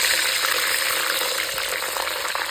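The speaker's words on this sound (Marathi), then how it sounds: "मिरची घेतलेली ती आपण याच्यामध्ये परतून घेणार आहे चांगली।" Green chillies sauté in hot oil for curd chilli, a dense, close, steady sizzle with no pauses.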